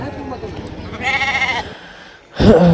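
Goats bleat at an open-air sheep and goat market, two loud close calls standing out over background crowd talk and chatter.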